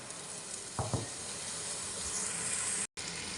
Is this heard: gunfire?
no